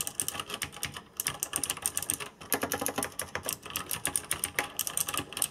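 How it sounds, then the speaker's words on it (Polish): Fast, continuous typing on a Tesoro Tizona mechanical keyboard with clicky Blue switches, each key snapping crisply and loudly up close, with a brief pause before the rapid clatter resumes. "dam wam próbkę o głośności klawiszy, są to przełączniki typu Blue"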